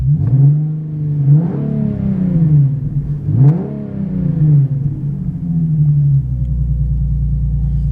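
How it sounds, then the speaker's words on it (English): A car engine revs up and back down twice under throttle, loud and close, each rise and fall in pitch clear, then settles to a low, even idle. "Let's give it a little throttle."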